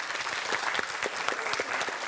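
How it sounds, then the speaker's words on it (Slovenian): A crowd at a school cup-stacking contest, Hitri lončki, applauds the primary school team from Brezovica pri Ljubljani, brisk close-packed claps in a steady roar that lasts the whole moment. "En aplavz za osnovno šolo Brezovica pri Ljubljani"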